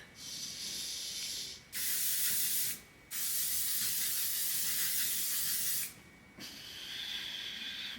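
Three bursts of spray from a spray bottle dispensing a new skincare product, a short hiss, a longer sustained spray, then a softer final spray, close and clear with no talking.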